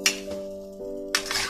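Dishes clink as plates are set out for serving fried egg with stir-fried lotus stems and cabbage: a sharp ceramic knock, then a ringing tone and another clatter, close by with no talking.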